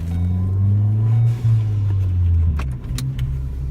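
Inside the cabin of a car fitted with an MBRP exhaust, a loud low engine drone holds steady, dips briefly, then carries on with faint rattles near the end.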